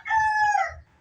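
A large black Dom brood cock crows once, a loud, close, clear cock-a-doodle-doo lasting under a second with no other voices around it.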